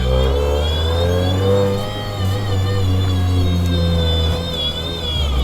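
A supercharged car engine accelerates hard and loudly from inside the car, a steady deep roar with a high supercharger whine on top, continuous and close throughout.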